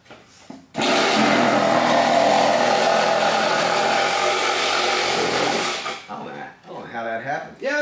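A compact DeWalt or Milwaukee reciprocating saw cuts through material in a head-to-head test, making a loud, steady, harsh buzz for about five seconds before cutting out. Voices follow right after.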